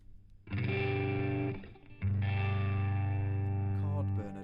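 Electric guitar through a chord burner tone preset, two sustained distorted chords, a short one then a longer ringing one, thick and buzzy with heavy effects, played alone up close.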